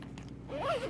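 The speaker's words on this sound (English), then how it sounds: "And then that whole thing just zips up." A zipper on a packed travel bag full of cables and hard drives is drawn closed in one quick, rising rasp that is close and fairly loud, following a brief rustle.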